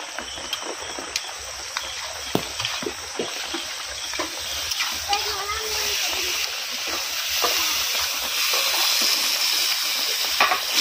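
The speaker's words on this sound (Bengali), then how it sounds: "পেঁয়াজ টমেটোগুলো ভালোভাবে ভাজা হয়ে গেছে," Onions and chopped tomatoes frying and being stirred in a pan for khichuri, a steady sizzle with frequent scraping and clinking of the spoon, growing slightly louder toward the end.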